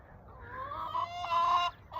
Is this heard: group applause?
no